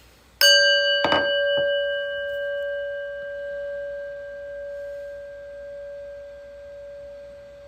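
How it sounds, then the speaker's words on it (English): A prayer bell is struck once, then a lighter second touch follows. It rings out clear and steady, and the long tone decays slowly in near silence. "we're going to ring the prayer bell"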